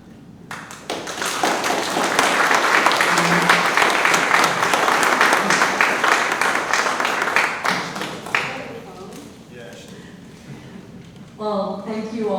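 A panel-discussion audience on clean energy applauds at length, dense steady clapping that swells and holds for several seconds before thinning out, with a few voices emerging near the end.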